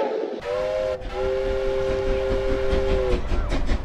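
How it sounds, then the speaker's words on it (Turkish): A steam train whistle blows as the train departs, a steady tone held for about three seconds over a continuous rumble of rolling rail cars, with no voices. "atlayın trene, çünkü kalkmak üzere. There she blows."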